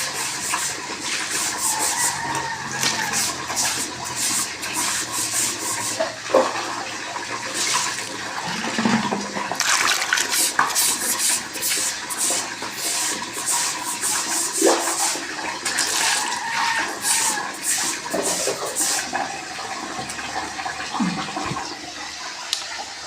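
Water poured and splashed while rinsing a toilet bowl and bathroom floor during cleaning; continuous close sloshing and gushing with repeated bursts and splashes over about twenty seconds.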